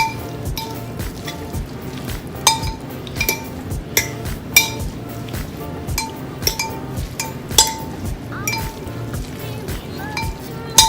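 Pulled pork being mixed with barbecue sauce in a bowl, with steady clinks and scrapes of a utensil against the bowl and soft wet squelches throughout.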